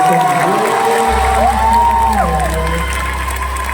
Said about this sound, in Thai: ขอเสียงปรบมือให้ตัวเองด้วย